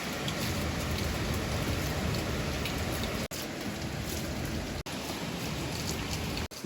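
Heavy monsoon rain in Dehradun pours down as a dense, constant roar of hissing water, loud and unbroken apart from brief cuts, with no voices.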